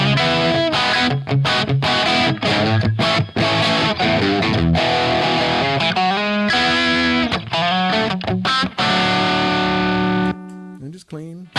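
Loud, gritty chords and riffs from an electric guitar run through a Rat distortion pedal into a 6L6 tube amp at low voltage, strummed in rhythmic bursts with sustained ringing notes.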